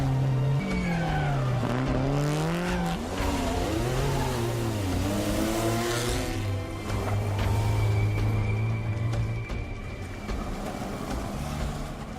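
A small Lotus race car climbs a hillclimb course in a regularity event, its engine revving hard up and down through gear changes, loud and close with rising and falling pitch, alone without talk.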